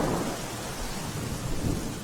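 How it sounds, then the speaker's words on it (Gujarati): Heavy rain pours steadily with a deep rumble of thunder rolling underneath throughout, loud and close, in rural villages of Limbdi, Surendranagar, Gujarat. "સુરેન્દ્રનગરના લીંબડીના ગ્રામ્ય વિસ્તારોમાં ગાજવીજ સાથે વરસાદ વરસ્યો છે"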